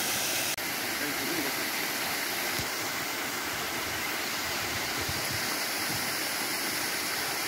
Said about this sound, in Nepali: यस्तो छ झरना।